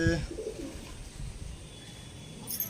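Low, soft cooing from a domestic Andra pigeon close by, a brief burst of murmuring coos early on that fades into quiet room noise over under three seconds.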